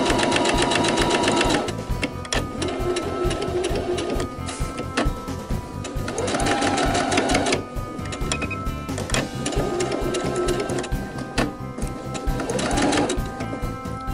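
A sewing machine stitches a half-inch seam allowance on a tote bag, with back tacking. It runs in repeated bursts of rapid mechanical chatter with short pauses between, close and steady, with no talking.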